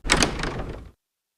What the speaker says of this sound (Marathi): Opening the door.